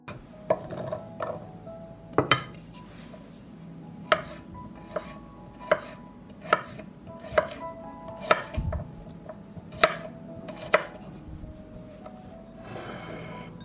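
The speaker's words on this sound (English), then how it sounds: "will mince 4 cloves of garlic" Garlic cloves minced with a knife on a board: a run of sharp, evenly spaced chops, about a dozen strikes at a steady, unhurried pace, close and clear in a quiet kitchen.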